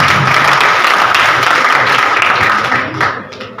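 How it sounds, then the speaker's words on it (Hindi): Loud, dense applause from an audience at an Urdu poetry gathering, many hands clapping steadily close by for about three seconds before thinning out and fading. "मैं चाहूँगा कि आप सब लोग उनकी लिए तालियाँ बजाएँ"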